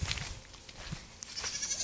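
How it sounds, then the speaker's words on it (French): Goats bleating at a campsite in Amboise, several short calls at close range with a few higher cries, over light ambient noise and no talk. "Ici, on arrive aux chèvres."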